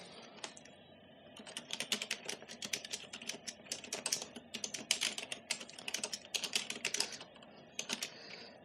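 Rapid, irregular typing on a computer keyboard entering text into Microsoft Works on a DOS computer, close and clear, with bursts of keystrokes and brief pauses, no voices.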